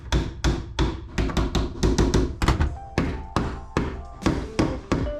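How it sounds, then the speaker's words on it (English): Wires are fastened down in an electrical box during a garage remodel, heard as a rapid series of sharp, close hammer-like blows in uneven bursts, with no talking. "I'm gonna fasten these down so they stop wobbling all over the place on me"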